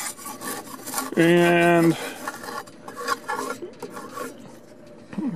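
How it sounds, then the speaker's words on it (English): Paint scraper rasping loose old lead-based paint off wooden fascia trim, close, repeated rough scraping strokes back and forth with a brief squealing tone partway through; a voice speaks briefly. "scrape this way, scrape that way."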